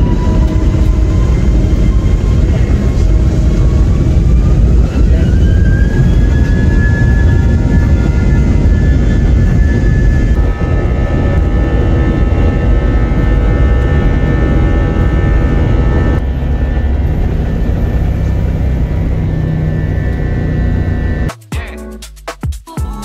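British Airways Airbus A320 jet engines roar loud and constant during takeoff, heard from the cabin. A whine climbs in pitch and then holds, and a burst of clattering noise comes right at the end.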